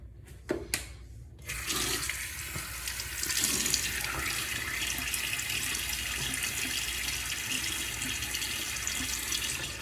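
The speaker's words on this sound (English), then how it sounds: "let me get my face wet" Steady stream of water running from a bathroom tap into a sink, loud and close, wetting the face before a shave with a stainless safety-razor blade; a few clicks at the start, then continuous rushing flow with no talking.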